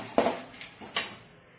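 A few dry clinks and rattles from peanuts dropped into a pan for roasting with a spicy puffed rice masala, three short close knocks, each quickly fading into quiet.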